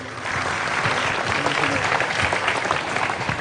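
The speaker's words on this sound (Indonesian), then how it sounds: "tepuk tangan untuk Indonesia." A crowd claps steadily for several seconds at a halal bihalal gathering in Surabaya, with the dense applause holding an even level and some voices mixed in beneath it.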